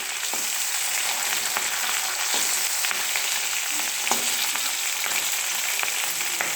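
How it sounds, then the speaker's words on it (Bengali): Fish heads fry in a pan in a dense, even sizzle with occasional crackles and light stirring clicks, close and steady throughout with no speech. "দেখো আমি মাছের মাথাগুলো ভাজছি।"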